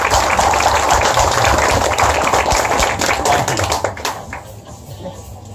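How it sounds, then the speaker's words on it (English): Loud audience applause up close at a Harley-Davidson dealership motorcycle launch event, many hands clapping at once, thinning out toward the end. "can we just have a big round of applause for Ola?"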